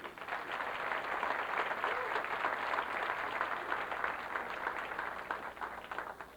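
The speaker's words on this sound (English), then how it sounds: "Let's give a nice round of applause for Miss Ava Mataya" Steady applause from the audience at a 1990 women's 9-ball pool championship, a dense, even wash of clapping held at constant loudness for several seconds with no talking.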